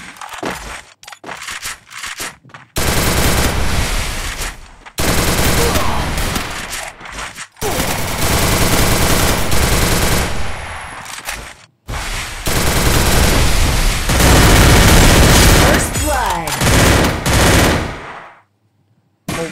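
Sustained machine-gun fire in a Vietnamese Crossfire-style solo match between two players: loud, dense bursts of automatic shots broken by brief pauses, with faint voices now and then between volleys.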